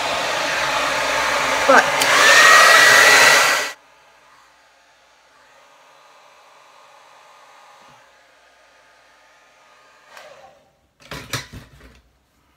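A loud, close hair dryer blows steadily for a few seconds while drying fine, limp hair, then cuts off, leaving quiet room noise with brief handling clatter and a short spoken word near the end.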